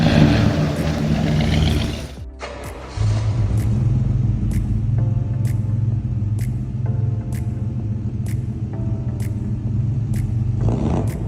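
A 1970 Plymouth Hemi Cuda muscle car engine rumbles loudly at idle, cutting out briefly before firing back into a deep steady burble, with a faint metallic ticking in the background.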